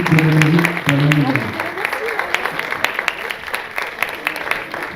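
Scattered applause from the audience at a Gilets jaunes general assembly in a town hall, moderately loud clapping that follows a few voices and carries on steadily in the room.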